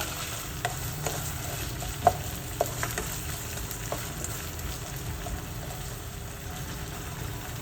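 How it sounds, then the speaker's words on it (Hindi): Medium-sized, finely chopped onion frying in a pan for chicken lasagna, giving a continuous low sizzle with scattered light taps and scrapes of a stirring spoon. "अब जो है इस प्याज को मैं कम से कम 5 से 6 मिनट के लिए पका लूँगी"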